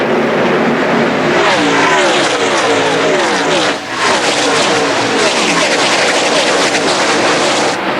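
A pack of 2003 Busch Series race cars at the Homestead race start, with dense, loud engine roar and shifting pitch as they accelerate past together, continuous throughout under a commentator's voice.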